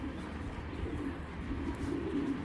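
A Giribaz pigeon coos softly and repeatedly, low and murmuring, with a faint steady background hum.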